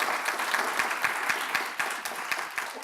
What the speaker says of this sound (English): you guys could clap for that too